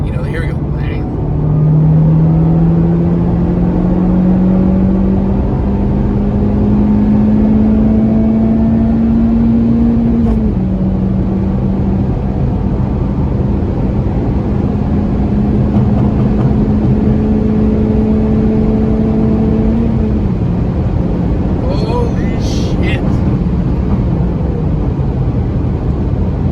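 Honda Civic Type R FK8 pulling hard in third gear toward about 6,000 rpm, a loud steady engine drone rising in pitch through the pull, easing briefly mid-run, then climbing again before lifting off, heard from inside the cabin.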